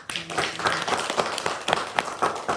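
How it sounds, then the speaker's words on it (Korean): A church congregation at a Wednesday service breaks into applause, a dense patter of many hands clapping close by, steady for a couple of seconds. "영광의 박수 올리겠습니다."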